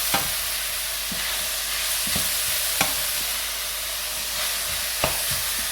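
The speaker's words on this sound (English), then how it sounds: "add our veg. To the hot pan that's got the olive oil in it." Vegetables fry in a hot pan with olive oil, giving a steady close sizzle and hiss with occasional soft stirring knocks.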